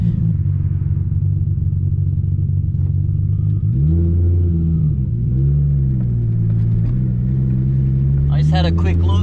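A Nissan Cefiro A31 driven hard, its engine note droning low and steady, then dipping and climbing through gear changes as it revs up again close to the microphone, with a brief voice near the end.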